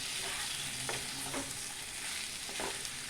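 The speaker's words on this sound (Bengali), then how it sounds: "যতক্ষণ পর্যন্ত চিকেনটা ভাজা হয়ে যাচ্ছে" Chicken pieces browning in a pan for Mughlai masala chicken give a steady, quiet sizzle with a few soft stirs, heard alone with no voices.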